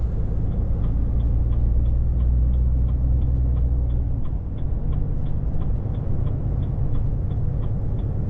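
Steady truck rolling along an Italian Autostrada, a loud continuous low engine and road rumble with a faint, regular ticking over it and no voices.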